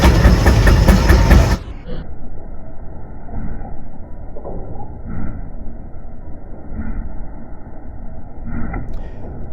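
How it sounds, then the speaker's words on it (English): A running steam tractor at an engine show gives a steady, rumbling mechanical drone with faint periodic chuffs, following a loud, brief burst of broadband noise at the very start. "here's a steam tractor that's running"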